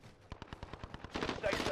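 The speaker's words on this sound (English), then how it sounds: "Bro, I hear a bunch of shots." Automatic gunfire in Call of Duty: Warzone, a rapid, evenly spaced string of about a dozen shots, then a denser and louder burst of mixed gunfire.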